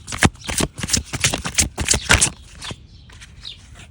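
Tarot cards being shuffled in a rapid run of crisp riffling slaps and flutters, close and fairly loud, tapering to softer card rustles near the end with no talking.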